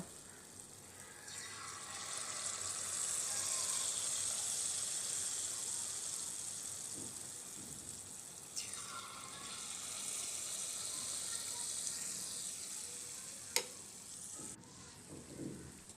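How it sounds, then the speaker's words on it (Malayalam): Unniyappam batter poured into a hot unniyappam pan and frying, a soft steady sizzle that swells for a few seconds then settles, with a couple of faint clicks, quiet and close. "ഉണ്ണിയപ്പച്ചട്ടി ചൂടായി വന്നിട്ടുണ്ട്. ഇനി നമുക്ക് ബാറ്റർ ഒഴിച്ചു കൊടുക്കാം."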